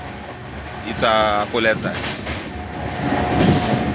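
A superfast train to Akola rumbles steadily with a constant low mechanical roar while someone speaks briefly over it.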